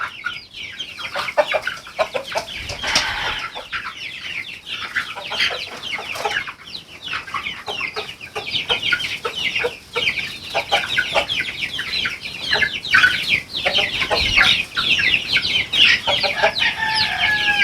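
Chickens cluck and squawk continuously as a busy flock, with a rooster among them, fairly close and lively throughout.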